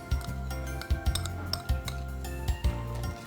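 A spoon stirs Mughal shahi sherbet with sugar and nut powder in a glass vessel, clinking against the sides in a steady rhythm of about three strokes every two seconds, close and clear.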